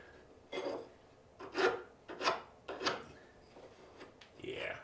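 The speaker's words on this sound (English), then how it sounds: "I want to use a regular file and just take the sharp edges off that are left over after sawing these to length" A hand file rasps over the sharp sawn edges of cut-to-length pieces, about five separate strokes in an uneven rhythm, close and moderately quiet.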